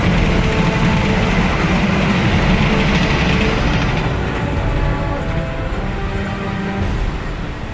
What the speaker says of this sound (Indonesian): Lihat pemirsa, ada kereta api lewat.